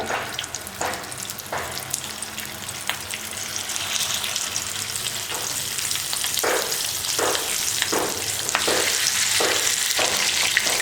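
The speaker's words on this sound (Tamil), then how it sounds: "எண்ணெய் சூடு ஏறிடுச்சு மீன் போட்டுக்கலாம் எண்ணெயில்" Masala-marinated fish fries in hot oil, a loud continuous crackling sizzle with scattered pops and spits throughout, and no voices.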